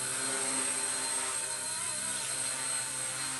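A Blade mCPX small RC helicopter hovers at near full throttle, giving a steady, continuous high-pitched rotor and motor whine that stays close and loud throughout with no talk over it.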